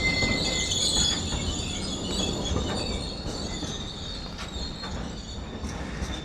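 Train passing through Doncaster station on the East Coast Main Line, with rolling wagon rumble, clickety wheel noise and high squealing wheels, steady and fairly close.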